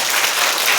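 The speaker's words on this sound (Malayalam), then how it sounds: "അതോടൊപ്പം തന്നെ നല്ല കൈയടി, ഒറ്റ നന്നായി കൈയടിക്കണം" An audience at a children's school event claps in a brief, loud, dense burst of applause.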